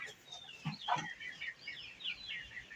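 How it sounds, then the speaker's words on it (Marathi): Two chickens in a cage, one yellow and one black, cluck softly close by, short throaty calls and higher chirpy notes scattered over a quiet background. "या पिंजऱ्यात दोन कोंबडी आहेत"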